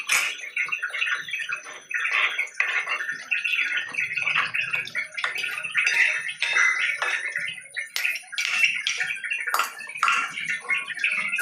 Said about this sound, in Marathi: गरम केलेलं पाणी टाकलं. हे तेच पाणी आहे, शेंगांचं पाणी.